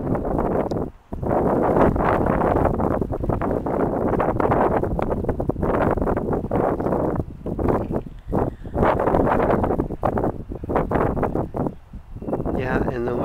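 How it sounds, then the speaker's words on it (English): Cool, moderate wind at the shore at low tide buffets the microphone in a continuous dense roar with brief dips, and a person's voice can be heard faintly beneath it. "Wind is blowing, not strong, but it is cool."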